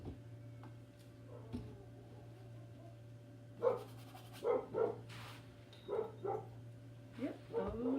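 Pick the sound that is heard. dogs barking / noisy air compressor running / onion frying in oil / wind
dogs barking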